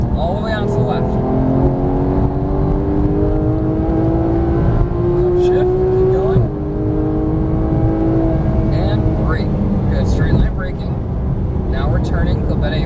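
A Porsche 991 GT3 engine accelerating hard on a race track, close and loud, its revs climbing in rising sweeps with brief drops at gear changes, while a voice talks over it.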